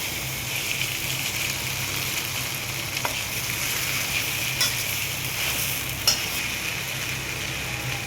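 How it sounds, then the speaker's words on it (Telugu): Maggi noodles with egg being stirred in a frying pan, a steady close sizzle and fry with soft scraping strokes running throughout, no talking. "మ్యాగీ మొత్తం వేసేసుకొని కింద మీద కలుపుకోవాలి."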